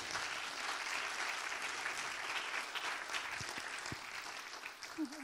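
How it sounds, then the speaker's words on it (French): Sustained audience applause at an evening education conference in France, a steady dense wash of many hands clapping throughout, tapering slightly near the end. "Je voudrais qu'on l'applaudisse."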